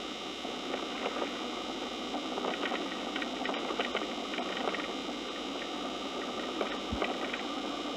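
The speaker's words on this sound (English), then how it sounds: "It sounds like they're driving." A car engine drones low and steady throughout a played-back dictation tape recording, with faint ticking and rattling over the hum and a brief low thump near the end.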